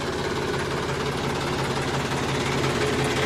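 A tractor engine idles steadily nearby on a farm, its continuous, loud mechanical rumble and low, even knocking holding at a constant level with no talk.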